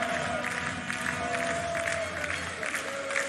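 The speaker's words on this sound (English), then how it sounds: "We'll just take a moment to listen to this celebration." Crowd cheering and clapping at the 2023 ICF Canoe Sprint World Championships in Duisburg after the men's C2 500m final, a steady wash of distant cheers and applause with a commentator's voice faintly under it.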